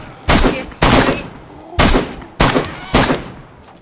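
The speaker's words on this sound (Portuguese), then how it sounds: "Tô matando na bala os zumbis aqui" Gunfire rings out in the zombie survival game DayZ as five sharp, loud shots come at uneven intervals, each with a short echoing tail and a faint background hum between them.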